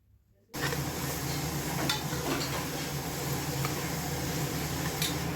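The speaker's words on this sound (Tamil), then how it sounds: "நல்லா வதக்கி விடுங்க." Onions with turmeric sauté in a pan for chicken biryani, with a loud, steady sizzle that starts abruptly and continues, plus occasional light clicks of stirring close by.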